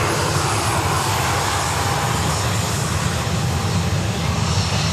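A Virgin airliner on approach into Sydney from the Gold Coast produces a steady, fairly loud engine drone with a broad rushing roar and a faint high whine, continuous throughout with no talking.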